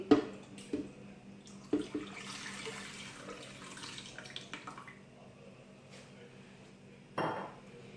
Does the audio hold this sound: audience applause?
no